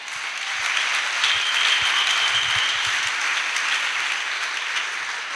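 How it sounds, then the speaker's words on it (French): Sustained applause and acclaim from a church congregation praising the Lord, a dense, even roar of many hands clapping at moderate volume. "Une acclamation au Seigneur"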